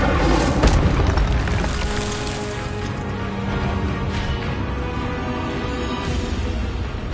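An Incendio fire spell bursts in the Hogwarts Legacy video game, a loud booming blast that swells early and then settles into a sustained roaring rumble with no talk.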